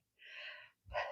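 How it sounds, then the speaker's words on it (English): A person sniffles twice in a kitchen while baking, two quick close breaths through the nose with a short gap between, and no speech. "Excuse my sniffling."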